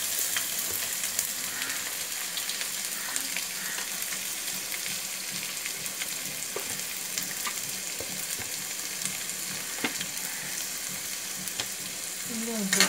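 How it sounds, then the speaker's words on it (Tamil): Onions sauté in hot oil for a white kuruma, giving a steady, close hiss of sizzling that runs evenly throughout with faint occasional stirring ticks. "போட்டுட்டு வெங்காயம் நல்லா வதங்கணும்"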